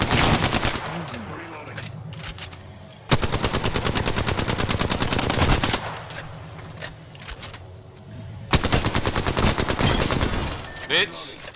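Bursts of automatic gunfire in the video game Apex Legends, loud and rapid, in three long sustained volleys separated by quieter stretches of scattered shots and game sounds.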